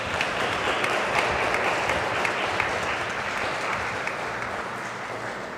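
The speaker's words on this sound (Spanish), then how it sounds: "Vamos a darle un fuerte aplauso a Fabiola." Church congregation at a Saturday evening Mass applauding Fabiola for her fifteenth birthday thanksgiving, a dense, sustained round of clapping filling the room evenly from start to finish.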